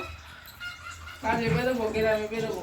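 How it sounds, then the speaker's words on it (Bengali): A hen lets out a loud, drawn-out call with a few repeated notes, close by, after a quieter stretch of background noise. "বাবা কি ডাকা ডাকছে মুরগি"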